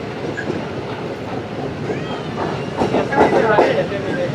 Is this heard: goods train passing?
yes